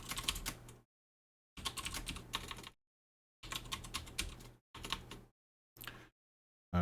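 Rapid clatter of typing on a computer keyboard, heard up close in five separate bursts with silent pauses between them, over a faint background hum.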